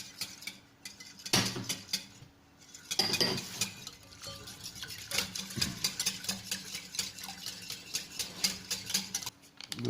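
A savory cake batter is mixed by hand in a bowl right after milk is poured in, producing irregular bursts of utensil scraping and clinking between short pauses.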